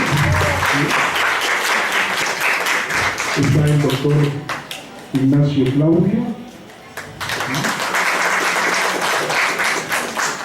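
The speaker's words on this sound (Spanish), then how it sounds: "Vamos a pedir un aplauso para todos ellos" An academic audience applauds founding members of a research chair, with a dense round of clapping that swells, briefly drops away near the middle, then resumes, while someone speaks over it and reads names.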